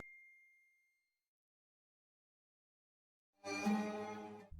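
A single bright notification bell ding rings out and decays over about a second, followed by silence and then a short burst of louder tonal sound near the end.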